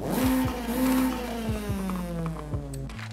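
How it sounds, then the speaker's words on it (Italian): A 2000 Nissan Silvia Spec-R in the game Forza Horizon 5 revs repeatedly with a stock exhaust tone, pitch rising and falling across several throttle blips, steady and close with no talking. "ora raga lo scarico originale"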